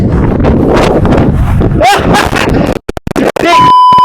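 Strong gusts of roughly 25 mph wind on a golf course buffet the microphone with loud rumbling and scratchy bumps as the camera gets knocked over, then briefly drops out, voices faintly under the noise.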